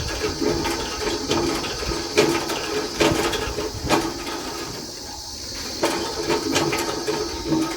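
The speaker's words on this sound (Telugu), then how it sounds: "వాటర్ టిన్ను కూడా నింపుకున్నా" Water rushes steadily into a metal water tin at a village water point, a broad rushing hiss broken by occasional clanks and knocks of the container. No talking is heard.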